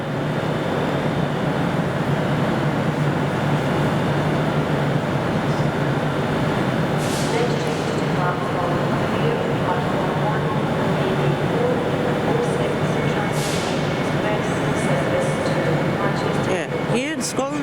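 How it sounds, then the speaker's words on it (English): A ScotRail train pulls out of Glasgow Central or Queen Street, with a loud, steady rumble and hum of the moving train that continues throughout. Occasional higher squeals and hissing bursts rise above it, and people talk in the background. "Okay, ScotRail leaving."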